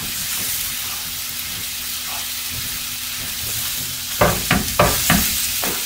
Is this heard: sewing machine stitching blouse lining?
no